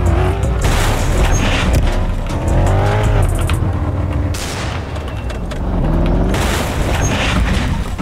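A car drives in a Roblox New York hood game, a loud continuous engine drone with shifting pitch and rumble, steady and close throughout with no pauses.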